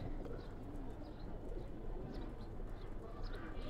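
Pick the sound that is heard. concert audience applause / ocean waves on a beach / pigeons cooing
pigeons cooing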